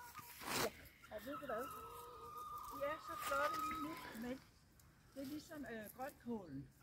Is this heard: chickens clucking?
yes